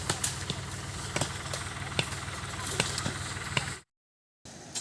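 A tractor engine runs steadily nearby at an outdoor site being cleaned for a religious gathering, its low throbbing drone continuous with periodic clanks before cutting out abruptly near the end.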